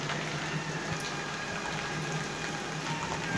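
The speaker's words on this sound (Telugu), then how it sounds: "ఇప్పుడు మీరు చూసినట్లయితే పైనుంచి నీళ్ళు స్టెప్ సంబడి వస్తున్నాయి" Water trickles down a flight of steps from above, a steady close wash of splashing and running water with a faint tonal hum behind it, no voices.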